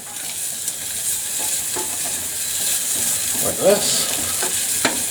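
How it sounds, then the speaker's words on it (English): Sausages sizzle and spit in a pan of rendered bacon fat, a steady broadband hiss with a few sharp pops and clatters, up close and fairly loud, with a brief spoken word. "drop them in the pan,"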